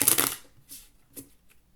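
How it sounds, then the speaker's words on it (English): Playing cards being shuffled: a loud riffle burst at the start, followed by two fainter quick shuffling swishes, close up with no talking. "I'll do 3 shuffles."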